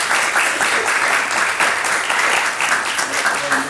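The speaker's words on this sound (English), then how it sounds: "we give them a big round of applause for being here today" Loud, full audience applause for the speakers at the end of an open discussion on infrastructure needs, a thick continuous clapping from a sizable room that holds steady throughout.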